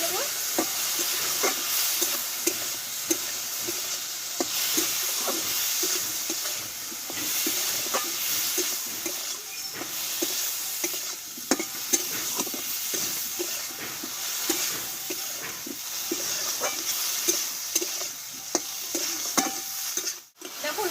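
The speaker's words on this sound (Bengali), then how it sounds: "লবণ হলুদটা দিয়ে কিন্তু আমি ভালোভাবে একটু কষিয়ে নিয়েছি" Plum chutney with salt and turmeric is sautéed in a pan: a continuous loud hiss of frying under frequent spatula scrapes and taps, steady and close for a long stretch, with no one talking.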